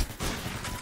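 Gunfire in the Roblox video game, a dense burst of rapid shots that fill the short moment loudly and without pause, with no voices over it.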